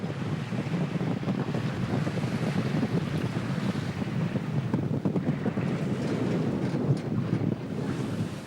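Rough sea and steady wind aboard a 70-meter sailing yacht off the coast of Miami: a constant loud rush of wind and churning water with no breaks and no talking.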